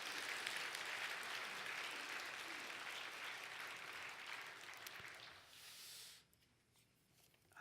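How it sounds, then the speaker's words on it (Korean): A church congregation applauds the choir and praise team, a broad sustained wash of clapping that holds steady for several seconds, thins out and then cuts off abruptly near the end, leaving a quiet room. "우리 찬양단들 또 성가대 한번 박수 한번 쳐주세요."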